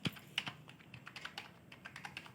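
Quiet, irregular clicking of keys on a Bluetooth keyboard, light individual taps at an uneven typing pace, close and faint, with no speech.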